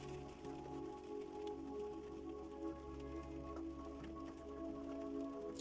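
Steady rain falls throughout, a soft continuous hiss with faint scattered drops over a low constant hum, no voices.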